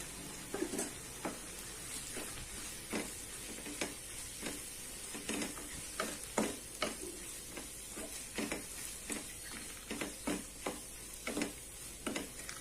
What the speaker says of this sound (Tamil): இது 1 நிமிஷம் வதங்கட்டும்.